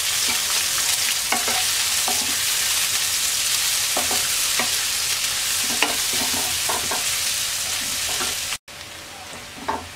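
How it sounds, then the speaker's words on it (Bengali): Chopped onions with whole cumin seeds fry in a pan with a steady loud sizzle, broken by scattered scrapes of a stirring spoon, before a brief cut near the end. "পেঁয়াজটাকে হালকা ভেজে নেব।"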